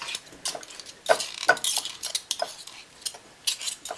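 A butter knife scraping and tapping against a metal whisk while pushing out homemade butter, a series of sharp irregular metallic clinks and scrapes, close and fairly quiet.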